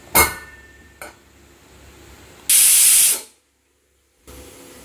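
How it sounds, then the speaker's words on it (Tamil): Pressure cooker on a stove, cooking sweet potato payasam, lets out a sharp, loud hiss of steam lasting under a second, with a few knocks and clatters around it and no talking. "ரெண்டு விசில் வந்துருச்சு, இப்போ நம்ம ஆஃப் பண்ணிக்கலாம் ஸ்டவ்வு"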